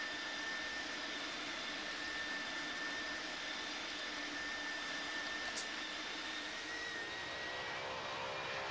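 A jet aircraft comes in to land on a runway with a faint, steady turbine roar and a thin high whine that holds throughout, and a brief sharp burst comes near the end.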